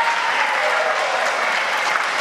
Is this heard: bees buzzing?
no